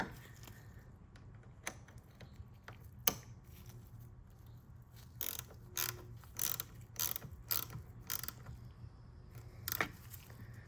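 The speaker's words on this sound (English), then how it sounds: "Last thing we need to do is reconnect our battery for the negative cable." Battery negative cable being reconnected in a car engine bay, a quiet series of sharp metallic clicks and ratcheting taps, irregular and close, with no talking.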